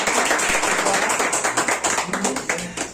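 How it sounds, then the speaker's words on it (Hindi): Audience at an Indian Army Agniveer recruitment welcome event claps in greeting, a dense run of hand claps lasting the full three seconds with a festive crowd buzz and voices mixed in. "जोरदार ताली से इनका स्वागत कीजिए"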